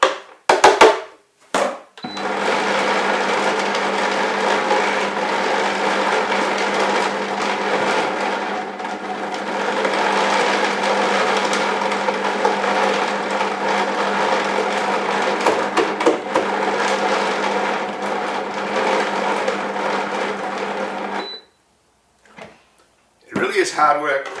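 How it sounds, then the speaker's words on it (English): A high-powered blender motor grinds peanuts into peanut butter, a loud steady whirring drone that runs for about twenty seconds and starts to labour, then cuts out and is followed by a few clunks. "You hear the motor just starting to struggle there, and that is going to happen a lot."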